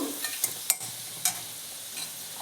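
Chili powder and spices fry in hot oil for a drumstick curry, a soft steady sizzle broken by several sharp scrapes and clicks of a stirring spoon against the pan.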